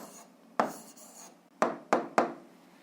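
Pen writing an answer on paper, heard as a few short, sharp scratching strokes in quick succession, close and fairly quiet.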